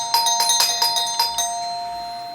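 An electric doorbell rings in a rapid series of bright metallic strikes, several quick dings close together, then fades out into a soft hum.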